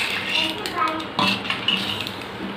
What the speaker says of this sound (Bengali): এবার ভালো করে মিশিয়ে দেওয়া হবে।